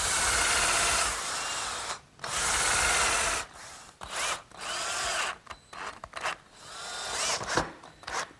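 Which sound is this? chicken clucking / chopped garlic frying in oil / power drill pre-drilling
power drill pre-drilling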